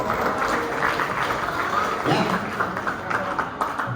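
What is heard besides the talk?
audience applause for a student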